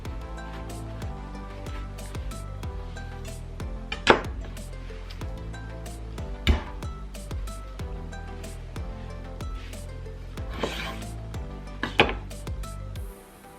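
Knife cutting an avocado on a board in a home kitchen, a series of soft knocks and taps with a few sharper clinks spaced through, close and alone with no talk.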